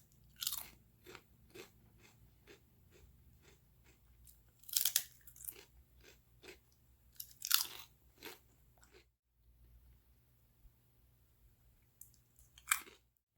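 Lay's Gameday Chili potato chips crunch loudly and close up in a steady chewing rhythm, with a few sharp louder bites spaced between quieter chews and a short silent gap.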